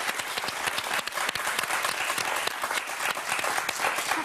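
A TV game show studio audience claps loudly and steadily, a dense, continuous burst of applause heard close throughout.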